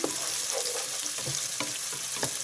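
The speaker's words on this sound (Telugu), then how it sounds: "ముందుగా కట్ చేసి పెట్టుకున్నాం కదా ఉల్లిపాయలు అదే వేసేద్దాం" Chopped onions frying in hot oil for garlic chicken curry, a steady close sizzle with several soft stirring knocks against the pan and no talking.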